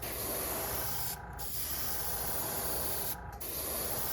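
An airbrush sprays paint onto a jerkbait lure with a close, continuous soft hiss, cut by two brief pauses as the trigger is released and pressed again.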